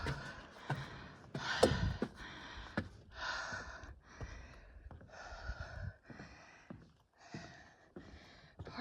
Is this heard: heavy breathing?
yes